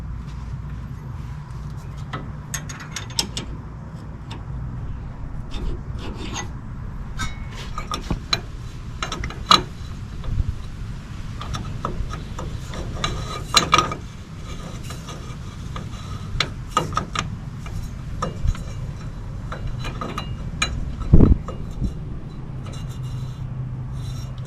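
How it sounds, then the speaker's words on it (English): Inner tie rod on a 2012 Toyota Tacoma SR5 being tightened, with irregular mechanical ticks, clicks and metallic rubbing from the tool at close range over a low steady hum, no talk. "Tightening up my inner tie rod."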